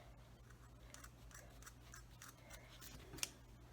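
Scissors snip through craft material for a headband in a few soft, separate cuts, up close and faint over a low steady hum, with one sharper click near the end.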